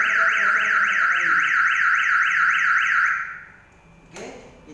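An electronic home and office security alarm wails loudly in a rapid warbling up-and-down siren for about three seconds, then cuts off, leaving quiet room noise and a brief knock.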